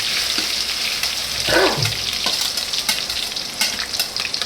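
Chili pieces, ginger paste and onion fry in hot oil while being stirred, a loud close steady sizzle with scraping spoon strokes and one brief wet gurgle partway through, no talking.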